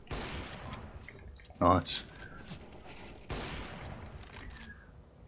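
Gunshots in CS:GO, a loud close burst of two quick shots in mid-clip over a busy game background, with someone talking briefly around the firing.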